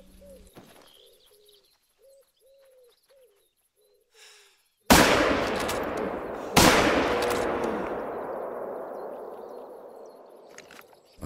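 Two loud rifle shots at a deer in theHunter: Call of the Wild crack out about two seconds apart, each followed by a long fading echo. Soft pigeon-like cooing is heard before them.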